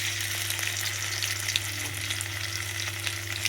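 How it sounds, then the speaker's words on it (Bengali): Ginger-garlic paste added to onions reddening in hot oil, a steady close frying hiss with a low hum underneath and small crackles, no talking. "এখন এই মুহূর্তে আমি দিয়ে দেবো আদা রসুন বাটা 1 চামচ মতন"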